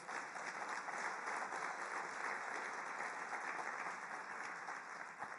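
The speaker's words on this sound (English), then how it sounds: "Big applause" Steady audience applause at a UN refugee agency meeting in a large hall, dense, even clapping heard at a moderate distance and sustained throughout.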